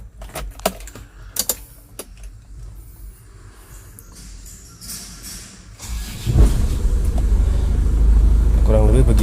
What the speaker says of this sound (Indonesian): Ya, mari kita starter mobilnya.